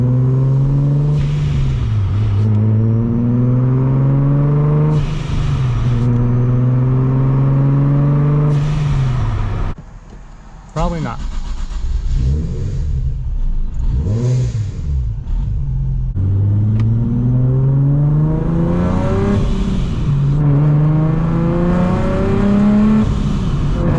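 A car with a Soho A2A cog kit timing belt revs hard under acceleration through repeated rising gear pulls, loud and close, with a brief drop midway before the climbing engine note returns.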